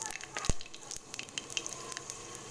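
Panch phoron spices hit hot mustard oil in a wok, giving a soft continuous sizzle with scattered crackles and sharp pops, close and fairly quiet, with no one speaking.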